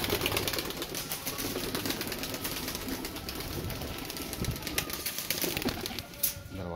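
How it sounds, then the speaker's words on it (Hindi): Breeder pigeons coo amid a steady bed of rustling and fluttering noise, with sharp clicks and taps scattered throughout. "ब्रीडर कबूतर निकल गए हैं"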